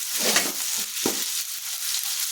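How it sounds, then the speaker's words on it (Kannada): Thick-cut capsicum fries in a pan with a steady bright sizzle, while a utensil stirs and scrapes through the middle. "ಹಾಕ್ಕೊಂಡು ಸ್ವಲ್ಪ ಫ್ರೈ ಮಾಡ್ಕೊಳ್ಳಿ. ಫ್ರೈ ಮಾಡ್ಕೊತಾ ಇದ್ದೀನಿ"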